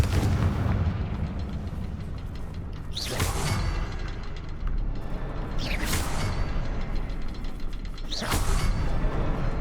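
Confringo blasting spells in Hogwarts Legacy, three loud booming blasts spaced a few seconds apart, each with a sharp crack and rumbling tail, over dense mechanical in-game noise with no talk.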